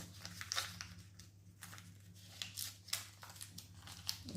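Paper banknotes rustle and crinkle as they are slipped into cash budget envelopes, giving soft, close papery bursts in irregular clusters over a faint steady low hum.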